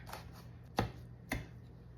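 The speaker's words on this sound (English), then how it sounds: "Cut our red pepper." Knife chopping a red pepper on a cutting board, two sharp distinct cuts about half a second apart, close and clear over a quiet kitchen background with a low hum.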